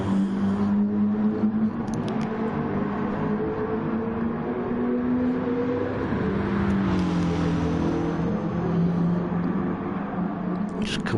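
Race cars on the final lap of a PS4 racing game championship race, a steady droning engine whine that rises and falls in pitch as the cars drive, with commentary spoken over it.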